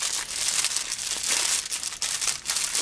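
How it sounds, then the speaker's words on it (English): Plastic packaging bag crinkling up close, a continuous busy rustle with sharper crackling bursts, no talk. "Sorry for the crinkling"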